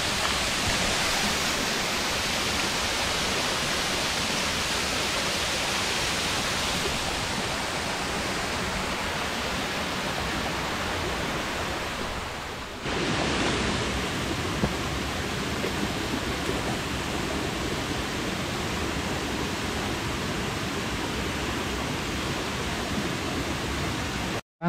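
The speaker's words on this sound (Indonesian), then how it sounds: "Air terjun nombor 4." Steady broadband rush of a waterfall, the fourth fall on a trail at Bukit Sentosa, Chepor, loud and continuous throughout with a brief dip midway and no talking.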